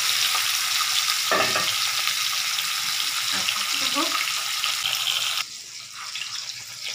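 A rohu fish head fries in hot oil in a home kitchen, giving a loud steady sizzle with a few stirring scrapes and clinks partway through. The sizzle drops quieter near the end.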